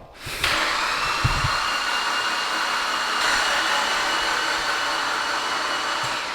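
A Mitsubishi Lancer Evolution X engine with its spark plugs removed turns over in a long, steady whirring crank with no compression and no firing, a continuous mechanical drone broken by a brief knock or two.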